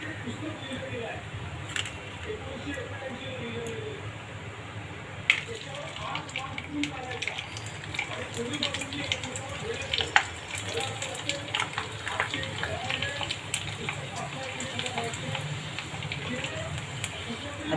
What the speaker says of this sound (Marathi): हे बघा आपले पापड आपण आता तळून घेतो.